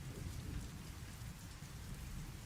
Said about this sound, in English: Love the soothing rain sounds.